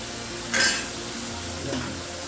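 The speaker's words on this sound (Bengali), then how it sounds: "চিংড়িটা ভেজে নিচ্ছে, লাউ চিংড়ি" Prawns frying in oil in a pan give a soft sizzle in the background, with a brief sharper burst of spattering near the start and a second smaller flare-up toward the end.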